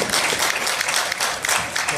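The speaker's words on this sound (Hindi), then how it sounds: "हम सबको बहुत तालियां बजानी चाहिए फरहान ईसा के लिए" An audience at an invitation event claps for a man honoured for his service during the COVID days. Dense, busy clapping runs throughout the short stretch, with faint voices mixed in.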